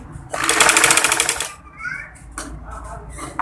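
A sewing machine stitches a samosa design onto a frock in one loud, rapid burst of about a second, followed by quieter intermittent clicking and a voice talking.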